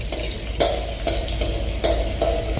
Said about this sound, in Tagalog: magigisa po kayo ng mga unang-una luya, tapos bawang